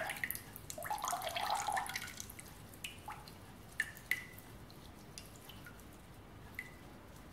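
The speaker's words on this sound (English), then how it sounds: "if you squeeze the SCOBYs with clean hands, you'll get more of the liquid out of there" Liquid dripping from squeezed kombucha SCOBYs into a container, a faint cluster of wet trickles early on, then scattered single drips falling at irregular intervals in a quiet room.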